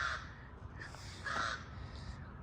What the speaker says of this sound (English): That crow's mad at me.